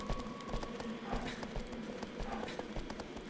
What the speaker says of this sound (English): The horse goes faster every time you kick.